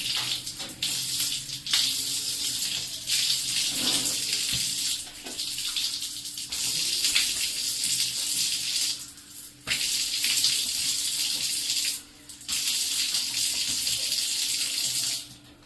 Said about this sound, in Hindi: नल पे आप वज़ू करोगे पानी ज्यादा खर्च होगा